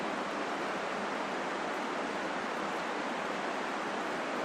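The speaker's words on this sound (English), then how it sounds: "let's walk over here to the waterfall" A desert waterfall during stormy camping, a continuous broadband rush of falling water, even and unbroken, with no voices.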